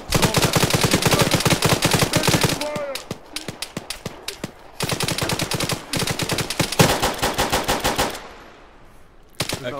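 Rapid automatic gunfire in Arma rattles in dense, loud bursts almost continuously, with brief pauses between volleys and a final short burst at the end.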